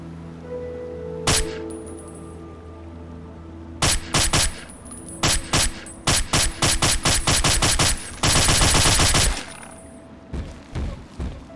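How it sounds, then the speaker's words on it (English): A silenced gun fires in the video game Fallout 3, sounding as sharp repeated shots: a few single cracks, then rapid volleys and a dense burst of fire, fairly loud and close with no talking. "It's a lot less recoil on it now, I think, which makes it easier to fire with the silencer."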